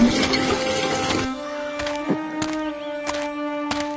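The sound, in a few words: water being filled into a basket at a water stand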